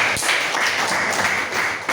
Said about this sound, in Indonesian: Tepuk tangan, jawabannya benar.